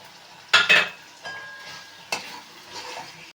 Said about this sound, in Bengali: মশলাটা কষানো হয়ে গেছে, এবার ভেজে রাখা শুটকি মাছটাকে এর মধ্যে দিয়ে দেবো।